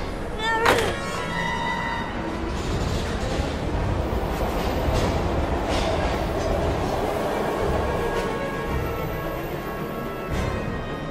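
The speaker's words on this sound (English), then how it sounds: "We gotta get on that train, Ethan." A train in the video game Heavy Rain gives a sharp thunk near the start, then a steady, loud, broadband rolling rumble that carries on to the end.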